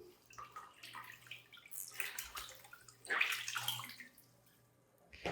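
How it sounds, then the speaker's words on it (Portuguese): Wet fabric being squeezed by hand to wring out excess water, giving quiet splashes and trickles into a basin, close and faint. "Vou espremer apenas para tirar o excesso da água."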